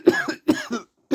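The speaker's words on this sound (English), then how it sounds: "I do a lot of coughing often" Three harsh coughs in quick succession, close and fairly loud, with a brief pause before the last one.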